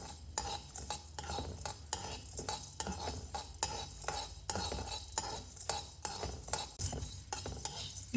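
Spices including fenugreek and ajwain dry-roasting in a pan while being stirred, with steady repeated scraping and metallic clinks of the spoon against the pan, close and moderately loud, with no talking.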